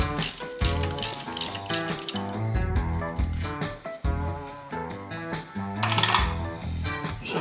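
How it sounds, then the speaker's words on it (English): A ratchet wrench undoes the top bolts on an old Shovelhead motorcycle engine, giving loud, rapid, busy clicking with a dense, ringing, tonal layer running continuously underneath. "Now we'll undo the two top bolts"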